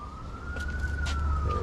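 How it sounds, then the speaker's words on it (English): A distant siren holds a steady high tone over wind and low rumble, with no one speaking. "all you're hearing is sirens again."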